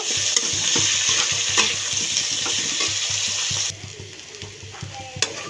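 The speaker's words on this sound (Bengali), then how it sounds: "আর হলুদ গুঁড়ো তো আমি সবজিটা ভালোভাবে কষিয়ে নেব" Vegetables with turmeric sauté in a pan, stirred with a rhythmic run of close scraping clicks over a steady sizzle that drops off partway through, followed by a few scattered clinks.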